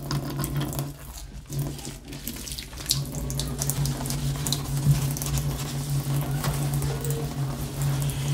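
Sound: water running from newly installed kitchen faucet

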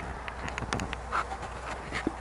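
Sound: mosquitoes buzzing around a tent

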